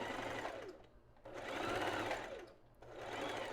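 A domestic sewing machine stitches a lingerie seam in three quick, close bursts of rapid needle chatter separated by short pauses, running alone at moderate volume.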